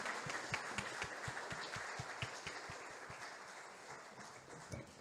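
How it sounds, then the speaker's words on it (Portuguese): A church congregation clapping along in worship, a quiet, distant, rhythmic beat of hands in a steady pulse, soft against the room's ambience. "Você pode aplaudir ao Senhor?"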